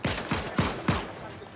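Gunfire in the Fortnite video game: four quick, evenly spaced shots ring out in succession, each a sharp report that decays into a lingering tail.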